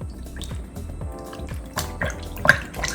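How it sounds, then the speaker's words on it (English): Wet felt is rinsed in a basin of plain water, with soft drips, trickles and splashes repeating in an uneven rhythm, close and fairly quiet, with no talking. "Just plain water, and we're just going to rinse all of that soap out."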